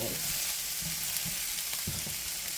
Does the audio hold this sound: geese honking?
no